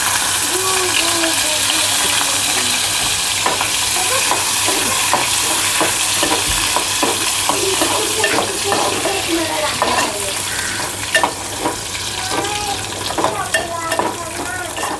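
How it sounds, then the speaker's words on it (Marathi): Bombay duck (bombil) fish frying in hot oil in a pan, a dense, steady sizzle with crackling and occasional stirring clatter, loud and close, continuing without pause. "आता त्याच्यामध्ये आपण तेल टाकूया आणि बोंबील फ्राय करून घेऊया।"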